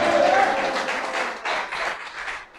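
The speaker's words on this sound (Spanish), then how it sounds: "Aplauda a Dios en este día." Congregation applauding during a Spanish-language church service, a brief burst of dense, steady clapping that fades slightly toward the end.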